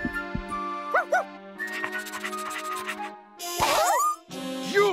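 A cartoon dog gives short, high yips and whimpering barks in quick bursts, close and clear. Soft scratchy sounds fill the gaps between the calls.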